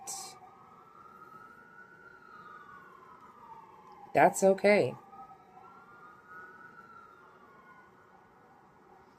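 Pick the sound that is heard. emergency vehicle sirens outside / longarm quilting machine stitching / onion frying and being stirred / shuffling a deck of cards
emergency vehicle sirens outside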